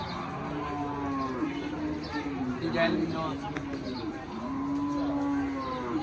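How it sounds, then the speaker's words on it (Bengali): Buffaloes low in long, deep calls at a busy village livestock market, with a steady crowd murmur and people talking underneath. "অনেক সুন্দর সুন্দর মহিষ আছে এখানে"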